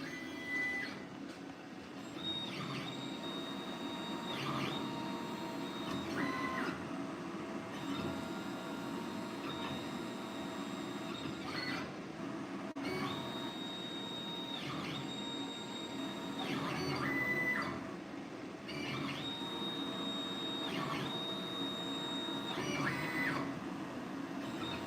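A Langmuir Crossfire Pro CNC plasma table runs dry without cutting, its stepper motors whining in repeated rising and falling tones as the gantry moves, fairly faint and steady over a low hum, with no talk.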